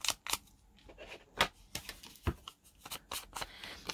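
Paper is torn by hand for crafting in a series of short, sharp, close ripping bursts with quiet gaps between them.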